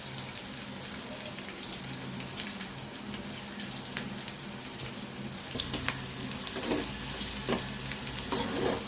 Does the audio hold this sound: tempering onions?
yes